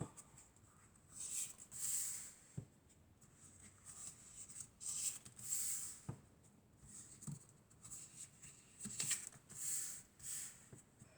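Tarot cards drawn and shuffled from a deck, soft rustling swishes and papery slides in repeated bursts with occasional light taps, close and quiet.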